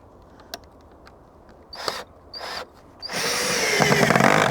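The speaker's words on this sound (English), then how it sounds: "So I'm merely screwing from the side piece to that back piece." A power drill driving screws into pallet wood for a compost bin gives two short whirring bursts, then a longer, louder sustained run as a screw bites in, close and alone.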